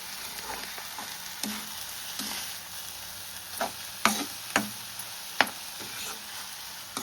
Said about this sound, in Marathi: मस्तपैकी ढवळून घेतले